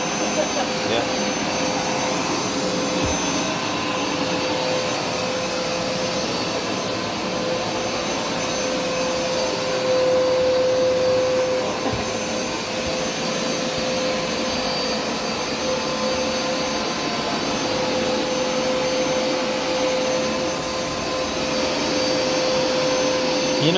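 A Hoover Smartwash carpet cleaner runs steadily on carpet, a loud continuous suction roar with a faint tonal whine throughout and minor swells as it moves.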